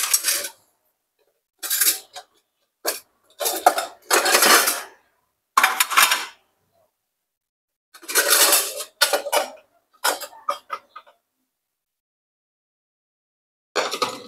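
A steel pot and a pile of dishes clatter and clank as they are handled, coming in short, loud, close bursts of metallic rattling separated by stretches of silence.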